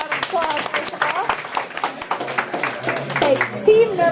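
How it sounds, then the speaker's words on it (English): A small audience gives a brief round of scattered clapping at a team presentation, with voices talking over the applause throughout. "we'll give a little round of applause"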